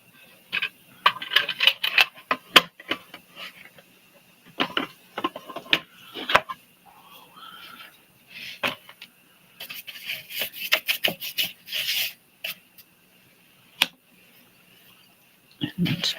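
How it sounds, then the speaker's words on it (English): A colored pencil is sharpened in an irregular run of close rasping and scraping bursts with short pauses between them, which stop near the end. No one talks. "Let's do some sharpening."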